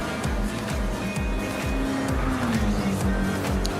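Audi TT in a racing video game at top speed on a Deep Forest track: a steady engine drone with a rising, sliding pitch and rhythmic low pulses, loud and continuous, with faint tire noise and no talk.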